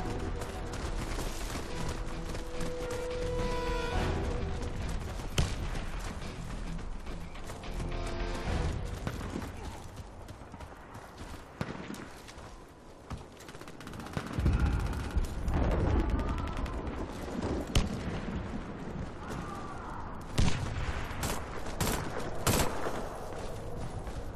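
Daewoo K1 rifle fire in a video game, repeated sharp shots and bursts mixed with mechanical clicks and weapon handling, loud and close throughout with no voices.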